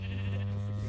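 A single sustained sheep bleat sounds up close and fairly loud in Minecraft Bedrock, filling the brief moment alone.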